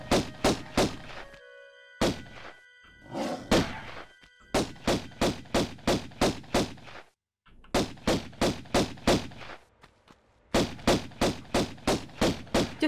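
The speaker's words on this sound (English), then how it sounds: "Just shoot them. Yeah, they take a lot of bullets." Pistol shots fired at tigers or pumas in Tomb Raider 1, coming in rapid rhythmic bursts of about four to eight loud, close cracks each, separated by short pauses, with no talking.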